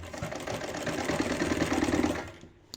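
A sewing machine runs steadily and close by, stitching a seam on a shirt in a continuous mechanical whir before slowing to a stop near the end, with no talking.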